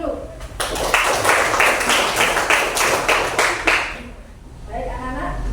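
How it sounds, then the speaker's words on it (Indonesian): A class of schoolchildren claps together in a classroom, a dense burst of hand claps lasting a few seconds before fading into quieter background chatter. "Kita tepuk tangan dulu."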